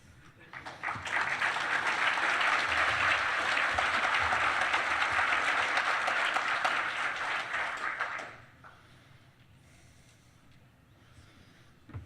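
Sustained applause from a conference audience after a Windows security talk, a dense wash of clapping lasting several seconds before cutting off to a quiet room with faint scattered sounds.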